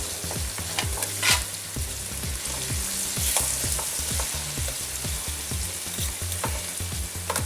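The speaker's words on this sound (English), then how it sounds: "So now we'll go ahead and we'll throw in the onions on top of that." Onions frying on top of Salisbury steak in a pan, a loud steady sizzle with rapid, regular stirring strokes scraping through it, close up and without voices.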